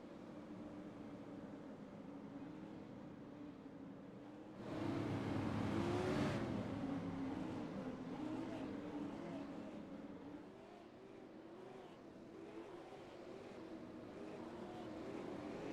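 Super late model race car engine at North Wilkesboro in a racing video game, a steady droning engine note with a louder surge a few seconds in before settling back to a constant hum.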